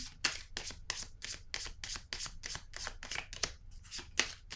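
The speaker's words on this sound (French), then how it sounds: "Je vais piger une autre carte ici." Tarot cards are shuffled close up in a quick, regular series of crisp riffling flicks, with no talking.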